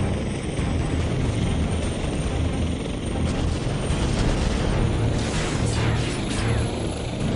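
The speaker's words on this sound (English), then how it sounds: "How do I get out of this flipping helicopter?" Helicopter in the Prototype 2 video game: continuous loud rotor and engine roar, steady and close throughout, with no talking.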